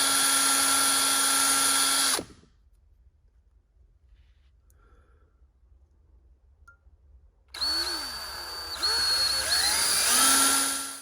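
A high, steady whine of a small power drill boring holes in a Honda motorcycle carburetor, cutting out into near silence for several seconds, then starting again with pitch wavering under load.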